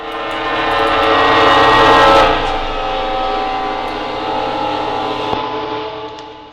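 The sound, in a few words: train in the Lost in Vivo video game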